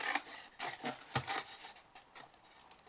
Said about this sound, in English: we're just going to trim down each one to the horizontal score line